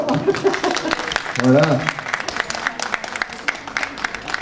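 Applause from a small audience after a finished restaurant plate is presented, light scattered clapping under a voice, which speaks briefly near the start and again midway.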